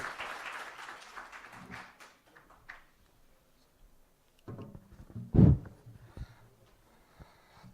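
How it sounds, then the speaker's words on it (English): A conference audience at a literature festival breaks into applause, a brief burst of clapping that swells and fades, followed by a loud knock-like thump and quiet room noise. "Please give a big round of applause, everyone"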